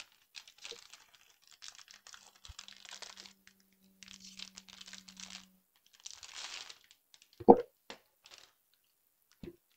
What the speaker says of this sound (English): Plastic paper on camera is not fun to listen to.